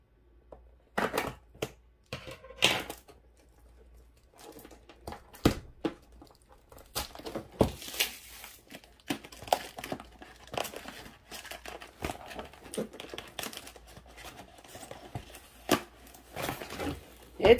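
Crinkling, tearing and rustling of tape being pulled off a cardboard package box holding a diamond art kit, in irregular bursts of close scratchy noise with short pauses, fairly quiet overall.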